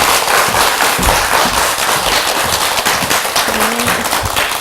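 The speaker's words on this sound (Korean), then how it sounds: "큰 박수로 모셔보겠습니다" An audience gathered for a talk on healthy eating gives a speaker a loud welcoming ovation, with dense, crackling clapping that sounds close and steady throughout, almost like a rapid popping.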